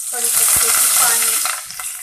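Curry leaves hit hot oil with fenugreek seeds, cumin and asafoetida for a kadhi tempering, giving a bright, loud sizzle and crackle close by, with light stirring.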